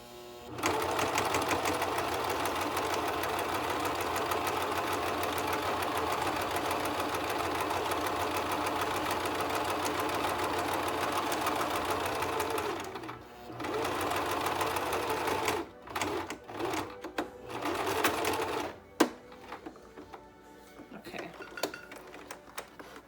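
A sewing machine stitches a fog-free face mask, running loud and steady for about thirteen seconds. A short reverse backstitch and several brief bursts of stitching follow, then it stops.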